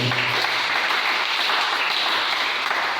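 A church congregation bursts into loud, dense applause, sustained clapping filling the room without a break.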